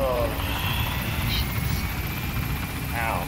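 Steady whirring helicopter rotor drone from the video game Metal Gear Solid V: The Phantom Pain fills the clip, with voices speaking over it throughout.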